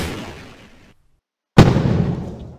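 In Garry's Mod, a fading firework burst trails off into silence, then a sharp bang launches a new firework rush that decays slowly.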